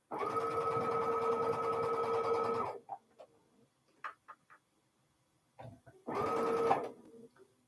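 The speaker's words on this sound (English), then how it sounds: "So I take my bonus triangle and I sew down the straight side, not the long diagonal" A sewing machine stitches bonus triangle pieces for quilt hourglass blocks, whirring loudly and steadily for about three seconds. Soft handling clicks follow, then a second short burst of stitching, with no talking.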